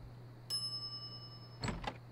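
A bell in the video game The Secret of Monkey Island rings once with a bright sustained metallic tone, followed by a couple of short clattering sounds over a low background hum.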